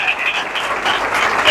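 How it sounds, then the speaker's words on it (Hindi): A church congregation claps in a loud, dense burst of applause for Jesus during a Hindi-language worship service, with no voices over it. "यीशु के लिए भरपूर तालियां बजाएं"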